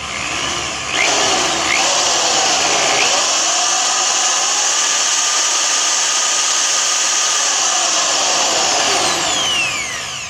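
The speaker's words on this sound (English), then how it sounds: "Looks like my drill runs about 70" An electric drill spins a dune buggy speedometer cable in a steady, loud high whine that holds for about ten seconds, its pitch sliding slightly at the start and near the end.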